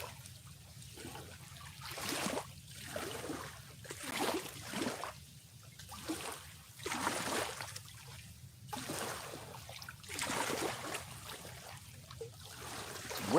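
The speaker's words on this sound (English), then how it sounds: "I would have thought these waves would have totally stopped by now. That barge went through about 10-15 minutes ago." Wake waves from a passing barge lap and slosh against the shore in irregular surges every second or so, fairly faint over a low steady hum, with no voices.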